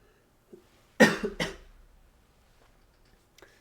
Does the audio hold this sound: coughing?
yes